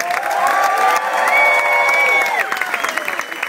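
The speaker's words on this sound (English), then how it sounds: "Big round of applause, please, for Mr." Concert audience at a live Latin band show in Massy cheers and applauds the bass player after his introduction, whoops and shouts rising over clapping while sustained held notes from the band ring underneath.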